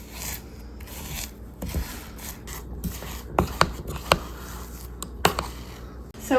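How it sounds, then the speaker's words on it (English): A metal spoon scrapes half-frozen homemade ice cream off the sides of a container, giving rough rasping strokes that get sharper and more frequent toward the end, close up and with no talking. "Any bits that are kind of freezing on the sides, I'm going to go ahead and scrape off with a spoon."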